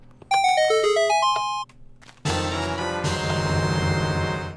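Zelda-style chest opening jingle played through a Minecraft resource pack: a rising sequence of bright chime tones, then a brief pause and a fuller sustained musical flourish, loud and clean with no talking.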